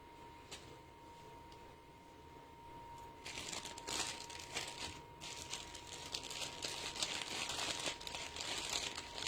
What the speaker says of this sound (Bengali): এটা ভাঁজ করো।